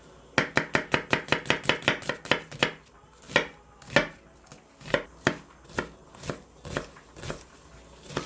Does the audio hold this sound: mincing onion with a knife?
yes